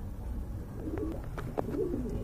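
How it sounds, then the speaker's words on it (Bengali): Large racing pigeons at a pigeon market give soft, low cooing calls in a few short bursts, fairly close, over a murmuring background. "এই যে দেখেন কত বড় কবুতর"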